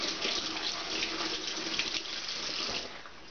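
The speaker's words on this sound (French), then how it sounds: "ce qu'on peut faire, c'est tout simplement rincer à l'eau claire" Steady rush of clear tap water running over raw shrimp being rinsed, a close, continuous splashing hiss that eases slightly near the end, with no talking.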